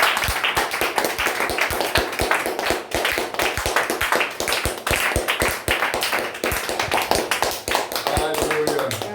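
Congregation in a church service clapping loudly and fast in a steady rhythm, sustained throughout amid voices and music.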